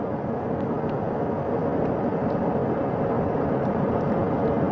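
A recovery helicopter hovers about 40 feet above the front porch of the Artemis II capsule during its ocean recovery, a loud, steady rotor and engine roar that fills the whole stretch without a break.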